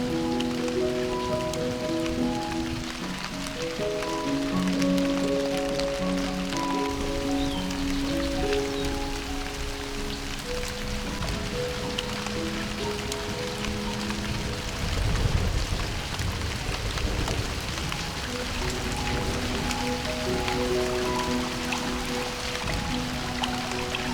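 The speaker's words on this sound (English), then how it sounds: "Rain is always welcome in our garden and the sound of it is always so" Steady rain falls in a garden on a small farm in Central Europe, a dense continuous patter of drops on surfaces with a low background hum of tones beneath it.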